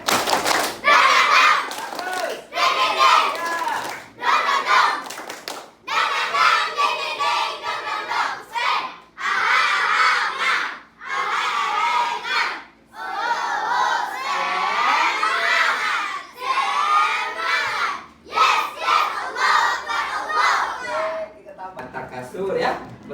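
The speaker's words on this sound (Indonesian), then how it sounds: "Oke, tepuk semangat." A classroom of schoolchildren performs the tepuk semangat clapping chant, loud bursts of shouted group chanting and sharp claps in a quick repeating rhythm, each phrase separated by short pauses across the whole stretch.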